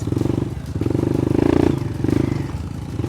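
A 250cc motorcycle engine runs under throttle, a loud, steady buzzing drone that swells into a stronger rev midway and again briefly near the end.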